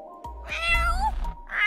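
A video game cat meows once, a drawn-out rising and falling call, clear and close, with a soft thud and a brief chime around it.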